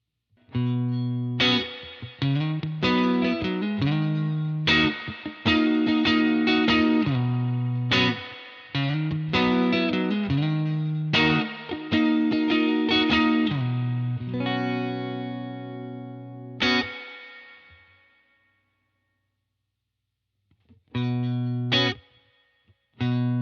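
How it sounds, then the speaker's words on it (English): An electric guitar runs through a UAFX Dream 65 amp pedal, Deluxe Reverb style, with the reverb engaged. Driven chord phrases play up close, and a long ringing tail fades into silence before a few final strums. No one speaks. "Let's now hear the reverb."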